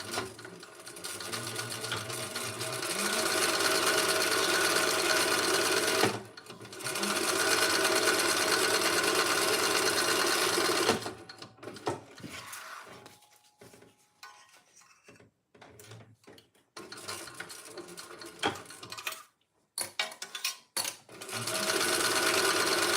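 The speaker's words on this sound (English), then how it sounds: "I'm just going to sew to make it a tube" A sewing machine stitches fabric into a tube with long continuous whirring runs, a short pause, then a stretch of clicks and handling noises before the motor runs again.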